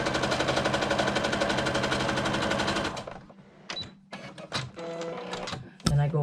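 Sewing machine stitching a seam on a velcro bag, a fast steady mechanical chatter for three seconds, then stopping, followed by quieter handling clicks and a brief burst near the end.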